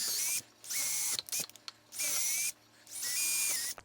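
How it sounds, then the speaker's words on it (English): A power drill with a bit bores holes, three loud sustained whirring bursts separated by short pauses and small clicks, close by with no talking. "So we find us a drill bit that's a little bit bigger than the screw itself."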